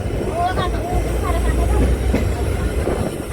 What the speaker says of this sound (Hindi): तो ट्रेन आ गई अपनी